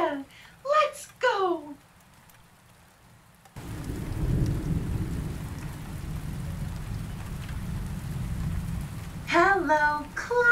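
Steady rain pours with a low rumble of thunder through a long middle stretch, fairly loud and continuous, framed by a voice at the start and end.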